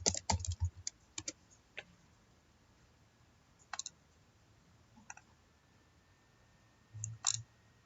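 Keys clack on a computer keyboard in quick clusters of taps, then scattered single presses and a final burst, close and fairly quiet against a faint room hiss.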